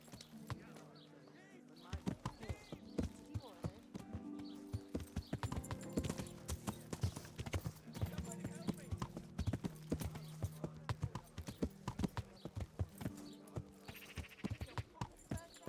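Horse hooves clip-clop in a quick, steady galloping beat on a path in the medieval video game Kingdom Come: Deliverance, loud and close, with game ambience and voices heard beneath the hoofbeats.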